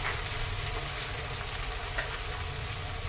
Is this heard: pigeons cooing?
no